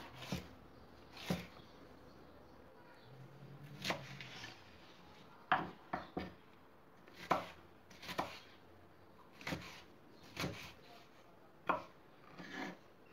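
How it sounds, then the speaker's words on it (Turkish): A knife chops a kapya red pepper into small pieces on a cutting board, with about a dozen sharp, irregularly spaced cuts near and quiet, no talk. "Onu da ince ince uzun şeritler halinde kesiyorum."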